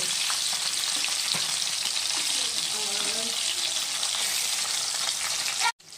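Pabda fish fry in hot oil, a loud steady sizzle with faint scraping of a spatula, ending in an abrupt cut-off.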